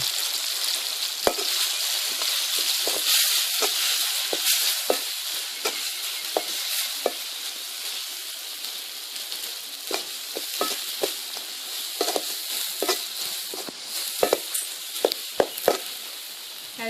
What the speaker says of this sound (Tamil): இதோட மிளகாத்தூளையும் சேர்த்து நல்லா வதக்கிக்கலாம்.